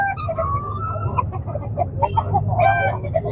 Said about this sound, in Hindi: ये कौन सा नस्ल का मुर्गा लाए हो?